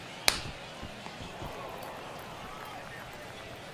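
A hand slaps onto a head, making one sharp smack right at the start against a low background of game sounds, followed by quieter thuds.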